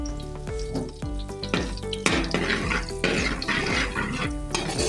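Garlic frying in a pan as it browns, a dense, steady crackling sizzle with repeated stirring and scraping sounds, close and moderately loud, no voices.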